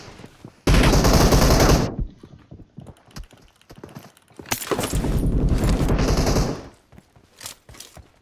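Automatic gunfire in the PUBG Mobile battle game, two long loud bursts of rapid shots close by, separated by a quieter stretch of scattered smaller sounds.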